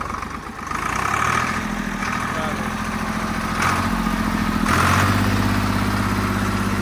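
A '95 model Swaraj tractor engine runs at high revs, a loud steady mechanical drone that swells slightly, with voices in the background.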